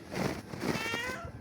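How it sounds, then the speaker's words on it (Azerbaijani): A cat meows for food outdoors in windy Baku, a short drawn-out meow rising over steady wind noise, close to the microphone. "Burada bir dənə pişiyimiz var."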